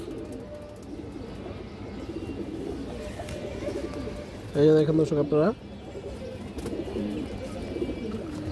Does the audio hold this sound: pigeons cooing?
yes